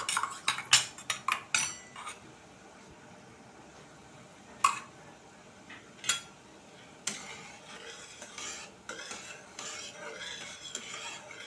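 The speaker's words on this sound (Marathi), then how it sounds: "कलथ्याने मी त्याला आता फोडून चांगला विरघळून घेते" A metal spatula breaks up and stirs jaggery in a pan, making a quick run of sharp scraping clanks at first, then sparser strikes and softer rubbing, close and alone without speech.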